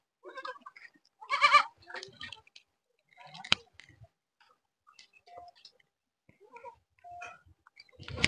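Goats at a model agricultural farm in Resunga municipality bleat in several short, separate calls spaced through the scene, close by, with faint clicks and rustles between them.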